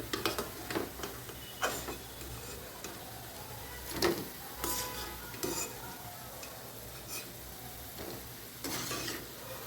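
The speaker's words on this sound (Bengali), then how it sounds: "এটাকে আমি আর একবার নেড়ে কিন্তু সবটাই তুলে নিচ্ছি" Ripe banana fritters in a pan of hot oil are stirred and lifted out, giving a faint steady sizzle broken by scattered scraping knocks of a utensil against the pan.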